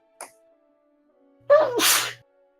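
A single sharp sneeze, close and loud, with a brief inhale before the burst; quiet otherwise.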